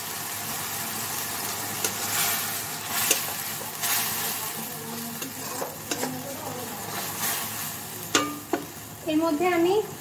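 Onions fry in a pan for a home-cooked dish, giving a steady close sizzle broken by scraping and clattering stirring strokes that grow busier toward the end.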